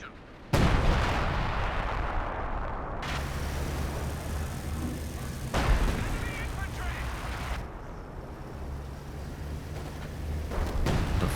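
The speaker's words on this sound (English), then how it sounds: "Barraging through the center at the moment and doesn't get any hits." Artillery barrage in a Company of Heroes 2 multiplayer match: several heavy booming impacts with long rumbling tails, loud and spaced a few seconds apart, under a continuous battlefield din.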